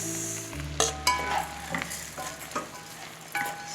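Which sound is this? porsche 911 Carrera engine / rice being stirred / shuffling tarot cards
rice being stirred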